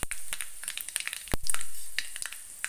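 Two dried red chillies crackle and sizzle in hot oil while a beetroot pickle is being made, giving a steady close hiss dotted with sharp pops and one loud clunk midway, with no one speaking.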